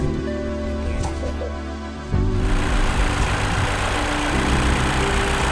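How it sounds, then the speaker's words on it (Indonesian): A 1997 Isuzu Panther's 2500 cc diesel engine starts up and runs, the quiet first two seconds giving way to a louder, steady rumbling clatter that continues close by to the end. "Kita dengarkan suara mesin 2500 cc solar"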